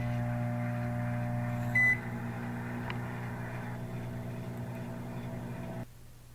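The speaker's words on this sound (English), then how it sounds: "Stay by the microwave and listen to the pop." A microwave oven hums steadily while heating popcorn, with a short beep partway through and a faint click before the hum cuts off near the end, leaving a quieter tone.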